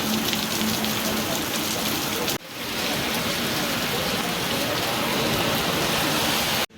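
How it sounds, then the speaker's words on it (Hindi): Heavy, steady rain pours down in a dense continuous roar while sheltering beside a parked motorbike on the road to Pushkar, India, with a brief dip partway through before it resumes just as hard. "बहुत ही तेज़ बारिश आ गई"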